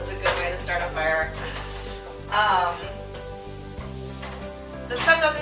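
Seitan fajitas sizzle steadily in a pan on a gas stove, a loud continuous frying hiss with stirring and scraping bursts throughout, close by.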